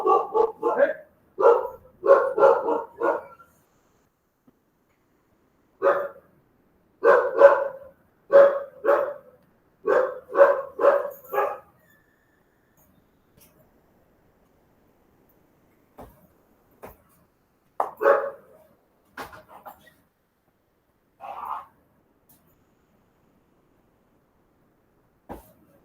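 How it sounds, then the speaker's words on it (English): A dog barks indoors in several clusters of rapid barks separated by pauses, with sparser, quieter yips and barks later on. "My dog is barking."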